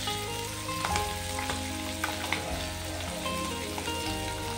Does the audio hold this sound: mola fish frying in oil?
yes